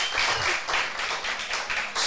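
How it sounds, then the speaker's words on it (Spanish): An audience applauds in a church or sermon setting, with loud, dense clapping that swells in rhythmic waves roughly twice a second. "Un aplauso, un aplauso."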